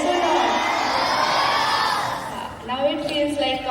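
A large audience of students at a motivational talk lets out a big, sustained cheer of shouting and whooping that rises and fades after a few seconds, followed by a brief voice.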